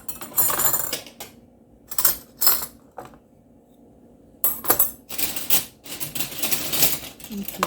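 Metal cutlery clinks and rattles in bursts as forks and knives are handled in a kitchen utensil drawer during deep cleaning, sharp and close, with pauses between clatters.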